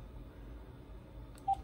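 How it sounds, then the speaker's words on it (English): A phone dials for a Juno dial-up internet connection, with a short, clear DTMF tone near the end of a quiet stretch of faint background hiss. "Let's hear it dial."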